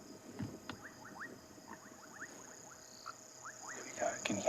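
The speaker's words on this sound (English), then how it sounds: "A grey tree frog or a foam nest frog." A grey tree frog or foam nest frog calls at dusk on a sunset safari. Short, faint chirping calls repeat in loose bursts against a quiet evening background of insects and distant ambience.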